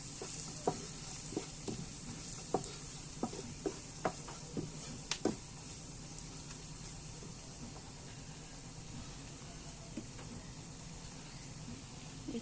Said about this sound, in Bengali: এবার সবটুকু উপকরণ ভালোভাবে নাড়িয়ে নেব।